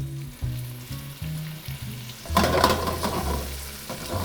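Seafood stew ingredients sizzle in a hot pan on a chef's stove, a loud, close frying hiss that swells sharply partway through as more goes in, with low clunks underneath and no talking.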